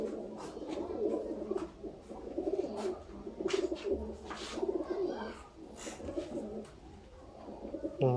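Old Sialkoti rooftop pigeons coo in repeated soft, throaty rolling calls, several birds overlapping close by with short gaps between phrases and occasional fluttering noises.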